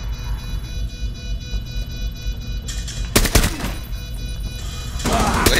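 Rapid gunfire in Rainbow Six Siege, bursts of automatic shots that grow loud and sharp midway, then continue in heavy volleys near the end.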